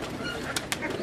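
An old black and blue Teddy pigeon coos softly and close by, a short burst of low throaty cooing over room noise.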